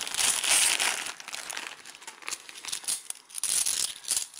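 A paper bag of 50p coins is torn open and crinkled up close, loud crackly rustling and ripping that comes in uneven bursts with brief quieter gaps, with no talk.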